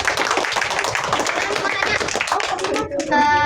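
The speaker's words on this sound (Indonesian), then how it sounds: "Mana tepuk tangannya?" Students in a classroom break into dense, steady applause that fills the room, with children's voices mixed in and a brief tone near the end.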